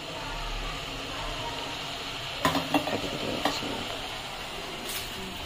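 Water is poured into chilli idli gravy frying in a pan, a steady hissing sizzle with a few short scraping and splashing bursts of stirring partway through.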